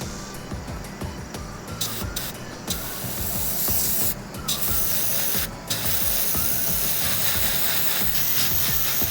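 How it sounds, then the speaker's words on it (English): Continuous hiss of a spray can or spray gun painting a custom vinyl figure, steady and close, with a few brief pauses and faint rattling clicks underneath. "let's spray this other side."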